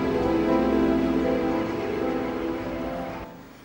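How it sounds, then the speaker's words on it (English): Heavy rain falls during the January 2005 floods in Carlisle, a dense steady hiss with a faint droning undertone that gradually eases before cutting off, and no voices. "This was the day the rains came."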